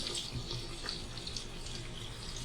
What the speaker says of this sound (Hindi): 1/2 कप मैंने इसमें पानी डाल दिया